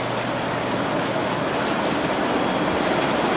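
A Coleman Tahiti inflatable spa bubbles continuously, its air blower frothing the water into a constant close roar of fizzing and gurgling. No one talks over it.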